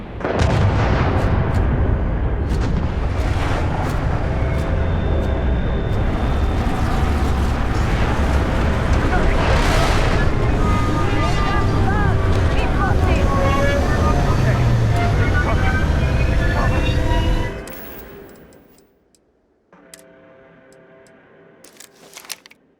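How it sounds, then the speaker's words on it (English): A Crimson Fleet pirate ship in Starfield comes in hot from orbit, a loud, dense roar with rumbling blasts that holds steady for about seventeen seconds and then cuts out abruptly, leaving faint scattered noises. "scanners on the frontier are reporting a ship coming in hot from orbit"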